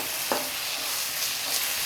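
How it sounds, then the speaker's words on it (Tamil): Onions frying with ginger garlic paste in a pan for mutton gravy: a steady hiss of sizzling oil throughout, with a couple of brief scraping stirs of the spoon. "இஞ்சி பூண்டு பேஸ்ட்டு சேர்த்து ஓரளவுக்கு வதங்கினா போதுமா."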